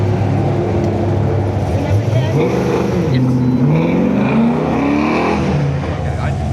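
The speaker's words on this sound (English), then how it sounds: "Ron got a bye, so now he's racing the Nova." A little Nova drag car with an LS7 engine and Forgeline wheels roars down the strip at Dover Motor Speedway during a Goodguys drag race, its loud engine note rising and shifting in pitch while an announcer talks over it.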